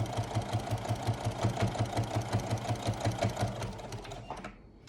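A sewing machine stitches the seams of a rag quilt in a steady, rapid rhythmic whir with regular needle beats, running continuously and close up before stopping near the end.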